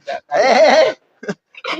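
Goats at a goat farm bleat loudly and close by in several short bursts, one long wavering cry followed by shorter calls.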